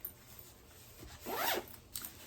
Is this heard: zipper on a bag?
yes